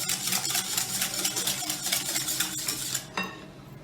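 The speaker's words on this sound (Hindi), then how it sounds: "उसमें से आधी दही को हम बीट करके इसमें मसाले जात मिक्स कर रहे हैं" Yogurt is beaten with spices in a bowl for dahi phulki, heard as rapid, rhythmic whisking and scraping clatter close by that slows and fades near the end, with no voices.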